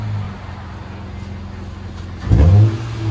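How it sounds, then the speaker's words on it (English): A 2011 Acura TL V6 with a muffler delete and dual exhaust idles with a low, steady rumble, then gives one short, loud rev that surges and falls away. "That's how you do a muffler delete on these."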